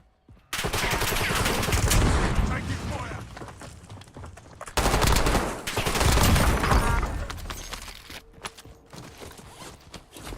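Gunfire in a Call of Duty: Warzone match comes in two long, dense bursts of rapid shots, loud and close, separated by a brief pause, with scattered footsteps and gear rattle as the shooting tails off.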